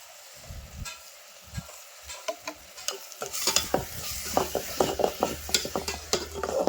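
Green chillies fry in oil for a chavalikai palya, a close sizzle under repeated scraping stirs that grow busier and louder in the second half.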